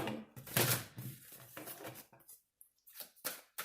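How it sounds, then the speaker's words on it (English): A deck of Alice in Wonderland oracle cards being shuffled by hand, heard as several quick, papery riffling bursts, close and fairly loud at first, then shorter flicks with brief gaps. "One more shuffle."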